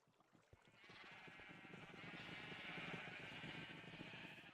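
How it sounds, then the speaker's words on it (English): Sheep in Minecraft bleat in a sustained, wavering chorus that swells after the first second and holds steady, fairly loud and unbroken. "That's always such a delightful sound, hearing the cows or the sheep just go absolute crazy over you."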